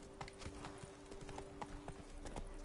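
Roach, a horse in The Witcher 3, gallops with quick, rhythmic hoof clip-clops that repeat steadily across a short stretch, moderately near and fairly quiet.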